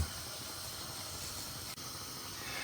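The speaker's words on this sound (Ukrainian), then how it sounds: "водичка продовжує кипіти" A steady, soft hiss and bubbling of salted water with spices boiling in a pot, continuous throughout with one brief dip near the end.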